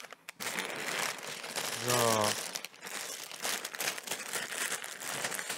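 A plastic LEGO parts bag from a Nintendo Entertainment System set crinkles close by in one short rustling burst, between stretches of someone speaking German.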